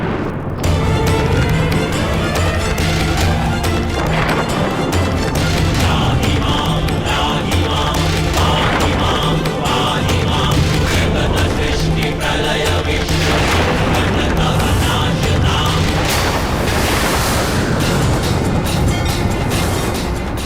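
Loud launch of the divine Brahmastra weapon in a Mahabharat TV drama, a dense continuous roar of booming blasts and crackling bursts that stays at full strength throughout, with no speech.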